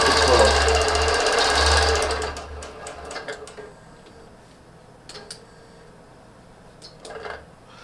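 A longarm quilting machine stitching a pantograph pattern across a quilt with invisible thread, a fast loud mechanical whirring for about two seconds that stops, followed by quiet scattered clicks and ticks.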